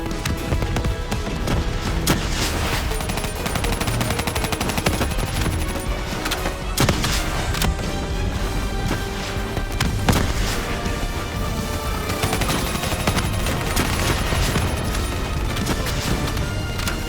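Heavy gunfire in the Call of Duty: Black Ops III video game, rapid automatic bursts and loud booming blasts that continue without a break over a thick bed of combat noise and score.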